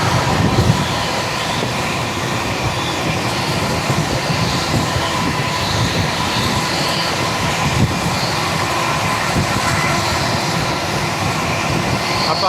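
The Mumbai LTT–Secunderabad Duronto Express passing, a continuous loud broadband rumble and roar of the train rolling by that stays steady throughout, heard close with no talking.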